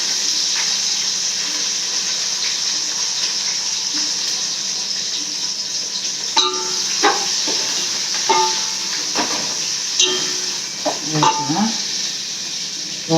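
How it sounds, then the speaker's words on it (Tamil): Onion and green chillies fry in a pan with a continuous hiss, broken by clattering stirring scrapes and clinks in the second half. "இப்போ வெங்காயம் பச்சை மிளகா போட்டுருக்கேன்"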